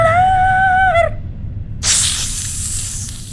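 A white snake in an Indonesian horror cartoon hisses: a wavering tonal sting cuts off, then a loud, sustained breathy hiss follows after a short pause.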